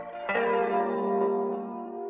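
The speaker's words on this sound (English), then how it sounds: "Stereo flange works in this case." A sustained, harmonically rich guitar loop tone starting after a quarter second, swirling with a sweeping, jet-like stereo flange plugin effect and lingering reverb.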